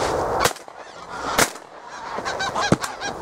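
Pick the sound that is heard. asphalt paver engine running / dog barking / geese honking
geese honking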